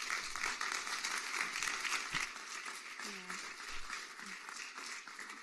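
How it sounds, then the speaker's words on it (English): Applause for a discussion panel at a cooperative media event: faint, distant clapping spreads evenly across the room with low murmurs and a few stray thumps beneath it. "Let's give our panel a round of applause."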